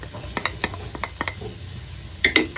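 Garlic and onion sauté in a pan with a soft sizzle under scattered, close spatula clinks and scrapes, ending in a brief louder clatter.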